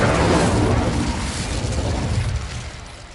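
A fiery Incendio spell blast erupts loudly at the start of a Hogwarts Legacy encounter, a dense rumbling burst that slowly fades and thins over a few seconds with no talking.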